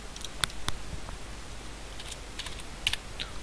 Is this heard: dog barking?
no